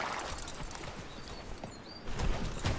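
Horse hooves clip-clop at a steady trot in the video game GUN, fairly quiet and somewhat distant, with faint chirps in the background.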